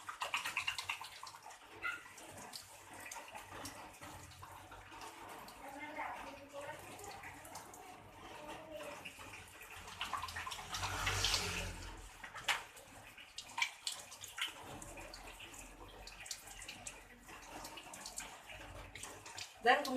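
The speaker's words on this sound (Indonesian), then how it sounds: "kita akan melakukan cuci tangan 6 langkah di bawah air mengalir menggunakan sabun" Water runs from a tap with soft splashing as soapy hands are rubbed and rinsed, faint and continuous, with a dog barking briefly in the background.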